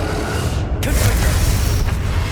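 A Confringo spell blast in Hogwarts Legacy gameplay on PS5, a loud booming burst that hits sharply and then rumbles on with a deep, sustained low roar.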